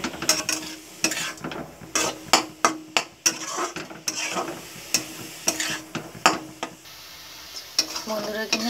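Grated coconut frying in melted jaggery in a pan, a low sizzle under loud, rhythmic scrapes and clanks of a spatula against the metal, close and busy.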